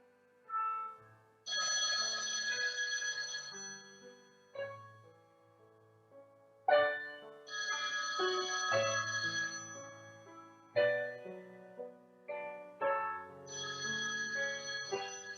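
A phone rings repeatedly in a bedroom alongside piano notes, several bright ringing bursts of about two seconds each separated by brief gaps, fairly loud and alone without talk.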